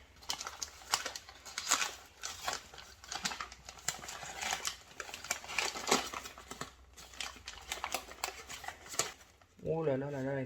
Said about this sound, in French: Si vous entendez le clac-clac, c'est mon chien.